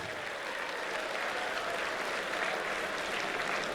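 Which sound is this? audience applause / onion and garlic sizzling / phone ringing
audience applause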